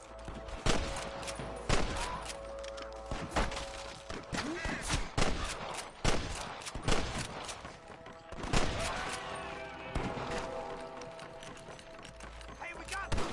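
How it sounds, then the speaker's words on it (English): Gunshots in the Red Dead Redemption video game, a dense volley of sharp cracks in irregular rhythm with echoing tails, loud and continuous, with voices talking in between. "I can hear more gunshots."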